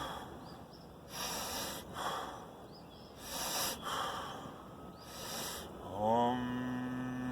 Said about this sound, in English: Bunch of breaths.